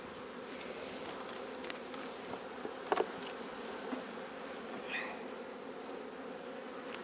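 Steady low buzzing of many honeybees at a hive, even and continuous, with a few faint clicks and no voices.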